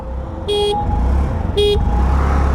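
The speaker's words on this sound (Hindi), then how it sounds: "will start the acceleration test with 3 horns" Two short, bright horn honks from a TVS Jupiter 125 scooter about a second apart, loud and close, over a steady low engine rumble.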